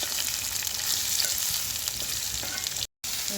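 Chopped bottle gourd frying in ghee, a dense continuous hiss and crackle close up, broken only by a brief cut to silence near the end.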